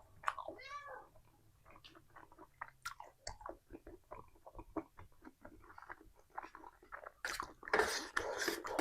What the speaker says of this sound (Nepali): म्याउ म्याउ गर्दैछ